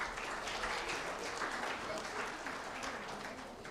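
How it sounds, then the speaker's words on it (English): Applause fills a hotel banquet hall as award winners are honoured at an insurance intermediary awards dinner in Nairobi, a steady wash of many hands clapping throughout at moderate level. "A round of applause for all our winners"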